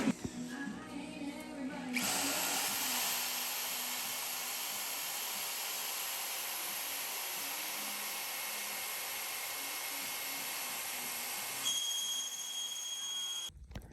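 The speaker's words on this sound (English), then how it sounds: "Now this is a drill right here." A power drill, used while working on a 1976 Toyota FJ40, whines steadily for about ten seconds with a bright, high buzzing tone, starting and stopping abruptly, heard close with no talking over it.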